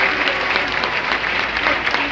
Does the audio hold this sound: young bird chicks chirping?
no